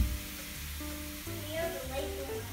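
Chopped cabbage and mushrooms sizzle steadily in a frying pan, a soft continuous crackle with occasional stirring under a low background hum.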